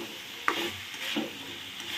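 Boiled chana being stirred and sautéed in a pan over a medium flame, a soft steady sizzle broken by a couple of brief scrapes of the spoon, close but quiet.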